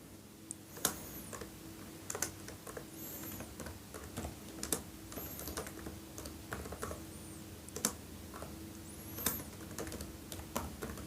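Keys clack on a computer keyboard as a school name is typed into MS Word, sparse, uneven taps, fairly quiet and close, over a low steady room hum.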